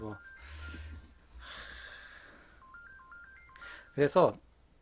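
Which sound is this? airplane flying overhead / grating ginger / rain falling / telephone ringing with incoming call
telephone ringing with incoming call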